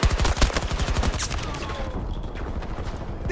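Gunfire from a PP-29 submachine gun in a PC shooter on the Manifest map: a dense burst of rapid shots at close range, loud, then fading into a softer tail with glass-like rattle.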